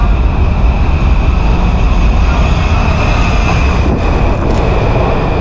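A Washington metro train rumbles steadily and loudly throughout, a dense continuous roar of wheels and motors with no voices on top.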